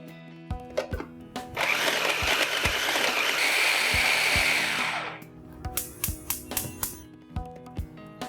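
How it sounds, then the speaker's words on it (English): A blender grinds cooled figs into a fine puree in one loud, steady whirring burst lasting a few seconds, framed by sharp clicks and knocks before and after. "then you need to grind them to a fine puree"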